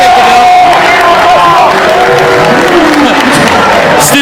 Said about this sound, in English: Students now chanting scoreboard.